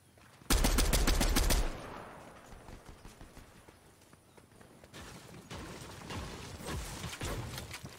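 Gunfire in a video game: a loud, rapid burst of automatic shots up front, then scattered quieter shots and footsteps, with more distant firing building toward the end.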